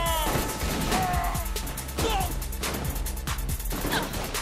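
Rapid gunfire in Saints Row IV: loud, dense volleys of shots crack over one another in quick succession, with sharp impacts and brief whining tones mixed into the busy combat din.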